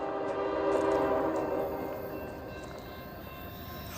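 A Nathan K5HL air horn on a passing train sounds one long, steady multi-chime blast close by that slowly fades, with no talk.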